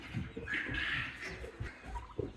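Turkeys gobbling among other farm fowl in a backyard poultry flock, a few short calls with bird noise throughout, fairly close.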